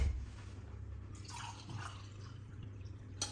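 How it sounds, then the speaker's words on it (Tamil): Water poured from a jug into a bowl while making donut dough, a brief quiet splashing trickle close by that fades quickly, followed by a light knock. "1 ஜக்கு வாட்டர் போட்டால் போதும்"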